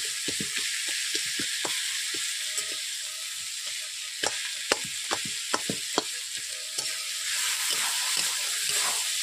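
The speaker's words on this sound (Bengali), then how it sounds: "এইভাবে আমি মাছের মাথাটাকে 2 থেকে 3 মিনিট আমি কষিয়ে নিচ্ছি ভালোভাবে।" Fish heads fry and sauté in a hot pan, a constant bright sizzle with a series of sharp scraping and knocking strokes from a spatula stirring them, and no talking.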